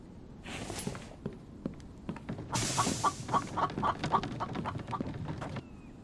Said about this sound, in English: we got 2 chickens over here now in the chicken trap